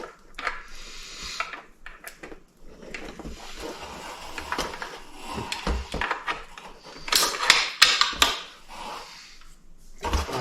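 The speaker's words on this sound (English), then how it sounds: "So let's get the bolt in." Bolt being fitted into a Bergara B14 HMR rifle during an unboxing: scattered close metallic clicks, slides and knocks, with a cluster of sharper clacks near the end and no talking.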